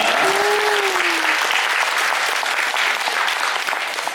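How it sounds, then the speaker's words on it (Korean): Wedding guests at a ceremony in Suwon applaud the couple, dense sustained clapping from a large crowd filling the room, with a brief whistle or cheer near the start. "박수 부탁드리겠습니다."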